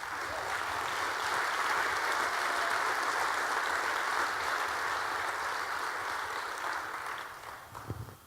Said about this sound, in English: you need to applaud these researchers in your state